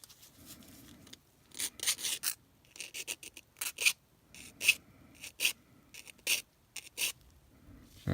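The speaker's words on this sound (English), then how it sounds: "I gotta get rid of the burr here." A triangle file rasps off a small metal burr in short, irregular scraping strokes, close and crisp, with brief pauses between bursts.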